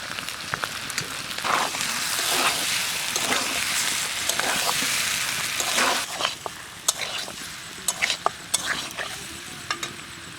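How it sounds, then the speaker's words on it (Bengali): Fried coconut goes into a hot pan of masala and potatoes for aloo'r dum, with a steady sizzle under repeated spatula scrapes and clinks that grow sparser toward the end. "নারকেল ভাজাটা দিয়ে দেবো।"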